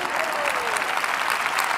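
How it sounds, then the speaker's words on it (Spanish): Brief burst of congregation applause during a church sermon, a soft, even rush of many hands clapping at a distance with a murmur of voices beneath. "Si ustedes no aplaudían, yo iba a aplaudir."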